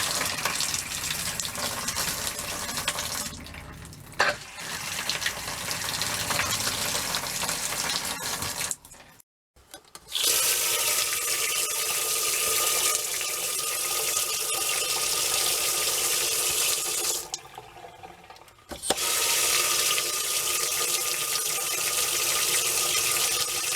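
A small RV water pump runs steadily, pushing antifreeze through the lines with a continuous gushing, tap-like flow, broken by two brief pauses.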